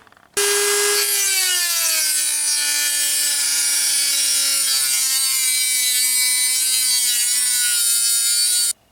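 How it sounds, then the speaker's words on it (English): A Dremel rotary tool grinds through 1/8 inch steel in one long continuous cut, a loud close whine that drops slightly in pitch as it bites in and holds for about eight seconds before stopping. "I think I'm just gonna do it with a Dremel. It's gonna take a long time, but it's 1/8 inch steel."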